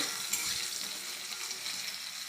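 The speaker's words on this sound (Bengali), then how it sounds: "আলুগুলো ডুমো ডুমো করে কেটে নিয়েছি আলুগুলো ভালো করে ভেজে নেব" Diced potato cubes fry in hot oil with a steady, close, even sizzle and faint crackle throughout, with no talking.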